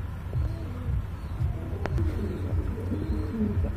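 Pigeons for sale coo softly and repeatedly in a pen, low throaty calls overlapping near at hand, with a faint background hum and a brief sharp click midway.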